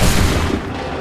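A loud burst of massed musket gunfire in Assassin's Creed 3, a dense volley of overlapping shots with a booming low end that rolls on and fades slightly through the second.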